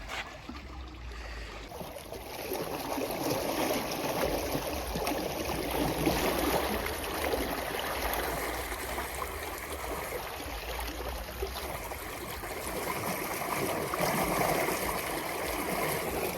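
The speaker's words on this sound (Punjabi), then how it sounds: "ਆਵਾਜ਼ ਸੁਣਿਓ ਪਾਣੀ ਦੀ ਕੁਦਰਤੀ" Continuous rushing and gurgling of flowing canal water, steady and fairly close, filling the whole stretch with no voices.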